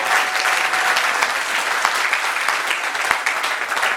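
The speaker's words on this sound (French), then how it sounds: "Quelqu'un peut acclamer pour la gloire du Seigneur" A church congregation bursts into loud, dense applause at a worship service, a sustained wash of clapping from many hands with no pauses.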